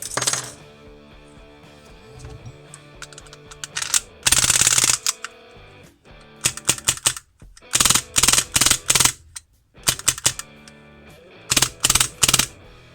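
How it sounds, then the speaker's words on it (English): Full-auto bursts from an HPA-converted airsoft MAC-11 gas blowback machine pistol, several loud rapid chattering strings of shots separated by short pauses, close and clear with no talking. "let's give it a burst of full auto then"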